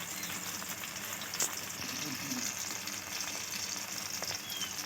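Chopped tomato frying with onion in a pan during egg curry cooking, a faint, steady sizzle with light stirring scrapes.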